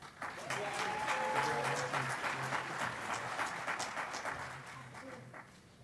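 Applause at a graduation ceremony, a crowd of scattered clapping that swells quickly, holds moderately loud and slowly thins toward the end, with faint voices mixed in.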